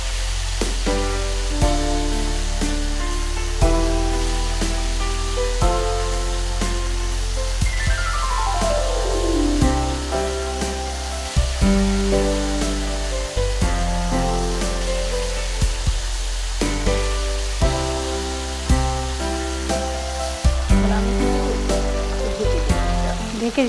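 Pieces of Karachi masala beef chaap fry in hot oil with a steady, dense sizzle that carries through the whole stretch, close and loud, with music layered over it.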